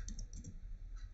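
A web address being typed on a computer keyboard, a quick run of close, light key clicks over about a second with no voice.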